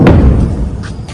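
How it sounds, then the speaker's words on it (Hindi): A loud, heavy explosion from a missile attack in Tel Aviv lands as a single deep thump and fades quickly. A couple of faint knocks follow it. "जोरदार जोरदार धमाका हुआ"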